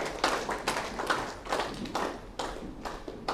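A seated audience claps in uneven waves that slowly thin out, bursts of hand claps fading in and out with short gaps in a large room.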